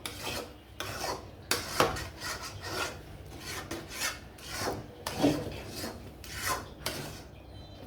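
Chana dal halwa being fried and scraped in a pan, a rhythmic rasping scrape repeated about every half second, close and fairly quiet, with no talking.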